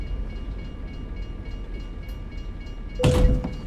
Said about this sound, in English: that's quite realistic for the train.